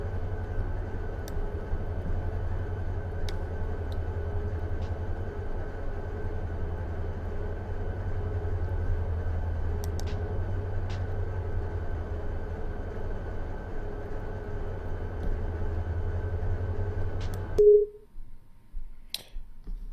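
Freight train running in the Run8 V2 railroad simulator, a steady low engine drone with a sustained mid tone and faint clicks, continuous for most of the clip before cutting off abruptly near the end.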